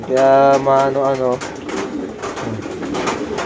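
Pigeons coo close by in a rainy outdoor spot, a loud throaty rolling coo followed by softer murmuring calls, while someone talks over them.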